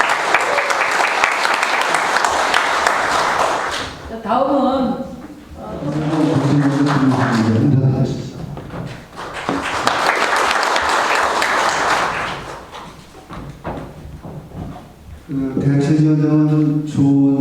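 An audience at a public forum in Goyang on a waste incineration plant breaks into loud bursts of clapping at the start and again mid-way. A voice speaks over a microphone in the gaps between the rounds of applause.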